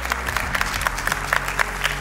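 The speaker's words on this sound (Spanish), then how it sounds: "Dale ese aplauso a Dios." A church congregation applauds, a dense patter of clapping hands filling the space at a steady moderate level, with no voices standing out.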